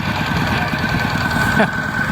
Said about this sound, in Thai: ตอนนี้ก็สตาร์ทเครื่องปั่นแล้ว ดังเหมือนรถไถนา